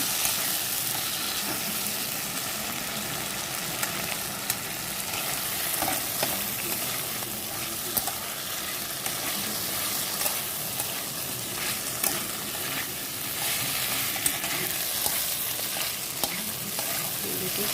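A paste of ground ginger, garlic and cashew nuts fries and is stirred in a hot pan, giving a steady, close sizzle with soft scraping throughout and no voices.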